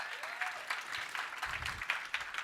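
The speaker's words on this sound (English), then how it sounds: "By the way, give a round of applause for that." An audience at a Los Angeles talk gives a brief round of applause, a fairly faint, distant clapping wash lasting a couple of seconds.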